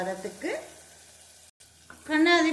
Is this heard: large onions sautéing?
yes